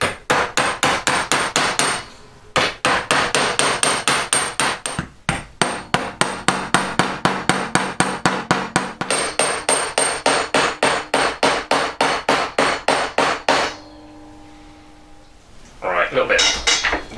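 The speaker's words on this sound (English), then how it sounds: "I'm going to kneel that again and then start doing some hammering." Hammer blows on metal while shaping a scrolled back shoulder, a fast, steady run of loud, ringing strikes near the mic, pausing briefly twice and stopping before a short scraping sound at the end.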